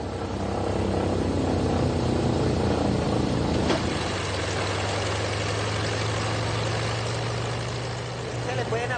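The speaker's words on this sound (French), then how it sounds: "Il va mettre à l'épreuve le vieux bimoteur." Engines of an old twin-engine plane running on the tarmac, a steady loud roar with a continuous low drone that settles into a smooth, sustained hum.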